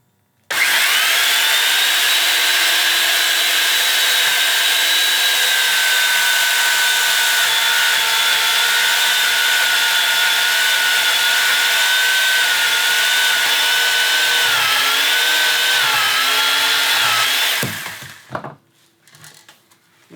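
A Skilsaw Sawsquatch circular saw rips through lumber in one loud, steady whine lasting about seventeen seconds, its pitch dipping slightly near the end before the blade cuts off and spins down into quiet.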